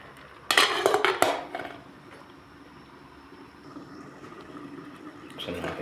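A cooking pot lid clattering as it is set onto a pot of shrimp sinigang, a brief cluster of metallic knocks and rattles followed by quiet kitchen background.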